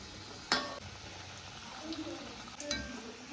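Vegetable kizhi fry in hot coconut oil with a low, soft sizzle. Two sharp metallic clinks come from the pieces being flipped, and a faint voice is present at moments.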